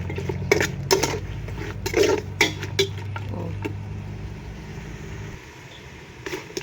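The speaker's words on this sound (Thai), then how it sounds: "เอากระดูกข้างเขามาขั่วก่อนให้มันสุกเลยพี่น้อง" Pork bones for a bamboo-shoot curry are stirred in a pan, giving sharp clattering scrapes of utensil on metal in irregular bursts over a low steady hum that cuts out near the end.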